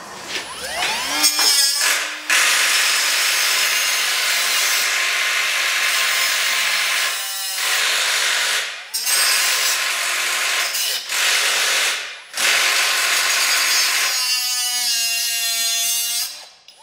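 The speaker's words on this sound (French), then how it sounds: "Ça y est, j'ai réussi à découper les équerres." Steel brackets are cut off a Peugeot 205 turbo-diesel subframe with a loud, sustained, rasping cut. The cutting runs nearly nonstop, with a few brief breaks, and no one talks over it.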